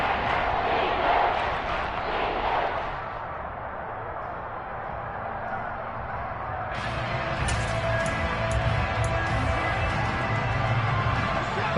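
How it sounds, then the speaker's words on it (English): A large crowd roars loudly through a football divisional-round playoff game in a stadium, a dense sustained swell that dips briefly and then surges again. "That just means this crowd's going to get even louder."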